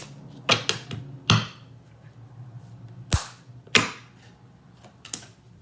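Tarot cards being shuffled up close, with a string of sharp snapping riffles and slaps spaced unevenly across a quiet room, no voices.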